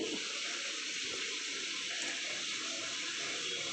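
A steady stream of water runs from a tap, a continuous close hiss with no talking.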